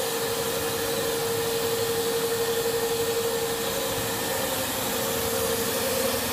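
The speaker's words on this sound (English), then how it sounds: "We have a motor which drives further and it is synchronized with the cutting. You can see the cutting." Steady mechanical hum and hiss from a plastic extrusion line, the cutter unit running in sync with its drive motor, with a constant whine and a faint rhythmic pulsing underneath.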